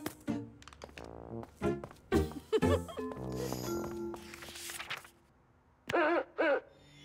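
A cartoon owl in the Caillou animated series gives two short tonal hoots near the end. Earlier come thumps, clicks and other cartoon sound effects.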